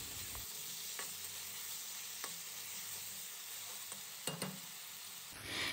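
Spice paste is frying with potato pieces in hot oil, with a constant soft sizzle and intermittent light scrapes and taps of a spatula as it is stirred. The sound is fairly faint and steady and nobody speaks.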